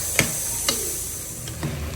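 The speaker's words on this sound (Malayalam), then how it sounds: "നമ്മൾ അപ്പോൾ കോക്കനട്ട് ഓയിൽ ഒഴിച്ച് കഴിഞ്ഞിട്ട് സവാള, പച്ചമുളക്, ടൊമാറ്റോ, ജിഞ്ചർ ഗാർലിക് പേസ്റ്റ് ഒക്കെ ഇട്ടിട്ട് നല്ലോണം വഴറ്റി കൊടുക്കുക" Onion, green chili, tomato and ginger-garlic paste sauté in coconut oil, a soft sizzle punctuated by a few scraping stirs of the spoon.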